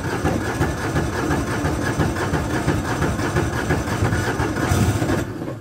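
A Landmaster LM650 two-wheel tractor engine runs after a cold start in sub-zero weather, a steady, loud, close chugging drone that holds evenly before cutting out abruptly at the end.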